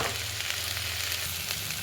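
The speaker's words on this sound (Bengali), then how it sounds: "এই সময় ওই ডাঁটাগুলোর মধ্যে দিয়ে দেবো, দিয়ে কিছুক্ষণ ভেজে নেব।" Potatoes and vegetable stalks fry in a pan for aloo posto, giving a steady, close sizzle with a low bubbling undertone that runs unbroken through the short clip, with no talk.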